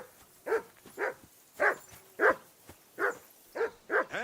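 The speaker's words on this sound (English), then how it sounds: "That barking was a pain in the ass." Dog barking in the video game Kingdom Come Deliverance II, a series of about eight evenly spaced, moderately loud barks with no talk over them.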